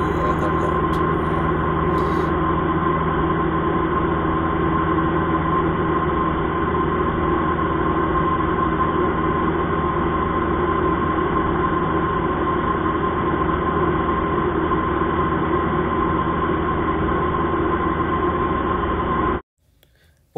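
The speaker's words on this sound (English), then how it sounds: "revving up the engine to cruise power to level out" A light aircraft's piston engine drones steadily and loudly at cruise power during instrument flying practice, a constant hum with no voices, ending abruptly near the close.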